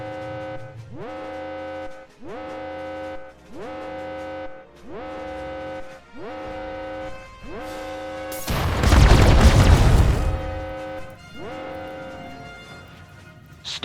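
Starship weapons in the video game RimWorld fire in a regular series of rising, tonal energy shots, followed by one loud, roaring explosion and then more shots trailing off.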